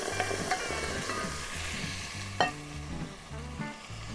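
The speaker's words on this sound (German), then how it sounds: "Rühre das Ganze noch mal ein bisschen, lass es noch mal kurz ein bisschen mit antoasten." Paprika and spices toasting in a pot for a Weißwurst goulash cooked on a grill, stirred steadily: a continuous soft sizzle with regular scraping strokes, one sharper clink midway, no talk.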